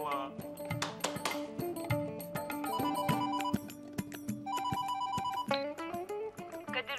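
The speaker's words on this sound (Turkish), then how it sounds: "Kadir Bey, Seda Hanım telefonda." A telephone rings in an office setting, repeated bright electronic bursts at moderate volume against background music and room sound.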